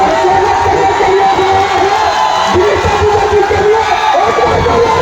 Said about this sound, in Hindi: एक बार जोरदार ताली होनी चाहिए